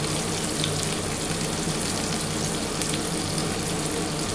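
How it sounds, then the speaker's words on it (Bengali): Chopped onion frying in hot oil for a tangra fish mustard curry, a steady, dense, close sizzle and crackle with no talking. "এবার এই তেলের মধ্যে আমি একটা পেঁয়াজ দিয়ে দিচ্ছি।"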